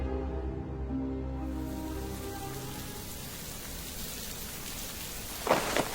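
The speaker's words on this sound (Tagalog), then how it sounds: "At doon na biglang bumuhos ang malakas na ulan." Heavy rain pours through a dark forest in a steady, full hiss that follows a fading low tone, with a few brief louder bursts near the end.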